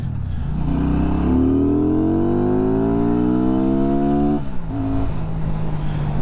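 A Benda motorcycle engine revs up with a rising, rough drone that climbs for several seconds, then drops abruptly and settles into a lower steady note, close and loud.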